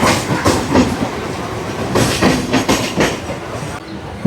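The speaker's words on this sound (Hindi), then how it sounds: "बालीगंज स्टेशन को छोड़कर जाती हुई हमारी ट्रेन अपने पथ पर आगे बढ़ते हुए" A Kolkata Circular Rail train pulling away from Ballygunge station and rolling along its route, with a steady loud rumble and recurring clickety-clack bursts from the wheels throughout.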